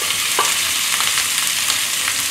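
Jumbo shrimp, patted dry and coated in egg white and cornstarch, fry in a very hot skillet, giving a steady, loud sizzle with light stirring scrapes throughout.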